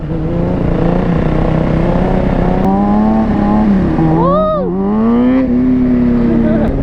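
Kawasaki Ninja 636 motorcycle on a warm-up lap, its engine droning and rising through revs with a sharp rise and fall in pitch mid-way, loud and fairly close.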